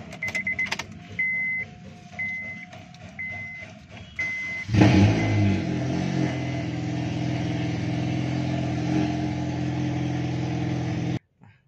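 A 2008 Honda Civic FD with a manual gearbox starts up inside: a few repeated electronic chimes and clicks come first, then the engine cranks and catches loudly, settling into a steady, close idle that runs to the end.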